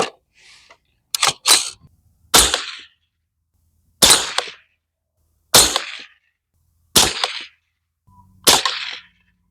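Bear Creek Arsenal 22 Magnum rifle firing Hornady 30 grain VMAX rounds, seven sharp, loud cracks spaced roughly a second apart, each with a short echoing tail and silence between shots.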